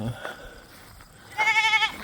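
A single goat or sheep on a farm lets out one short, wavering bleat near the end, fairly close, following a quiet stretch with faint background noise.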